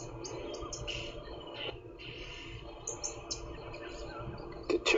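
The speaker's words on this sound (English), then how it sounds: "chirping we can hear the oxpeckers that are" Oxpeckers chirp around a buffalo blowing bubbles in water on a sunset safari drive, picking ticks from its fur: repeated short, high, thin chirps scattered over a steady low outdoor rumble, with a louder cluster of calls right at the end.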